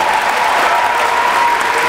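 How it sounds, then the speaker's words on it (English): An audience at a poetry event applauds in a steady wash of clapping, close and continuous throughout. "A round of applause, please."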